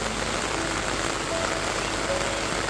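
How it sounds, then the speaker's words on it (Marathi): Heavy rain falling on a farm field during rice transplanting, a dense, continuous hiss of steady downpour with no pauses, close and evenly loud throughout. "आम्ही शेतावरती जसं पोचलो तसा जोराचा पाऊस चालू झाला"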